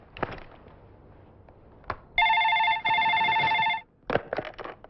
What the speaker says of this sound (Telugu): ఒక ఫోన్ చేసుకుంటాను.